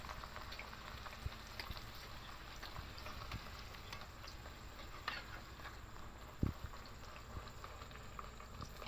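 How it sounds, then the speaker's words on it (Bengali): Dal puri (luchi) frying in hot oil gives a faint, continuous bubbling crackle with scattered small pops, one sharper pop near the end, and no voices. "এবার দিয়ে দেবো লুচিটা, একটু উপর দিয়ে তেল দিয়ে দেবো।"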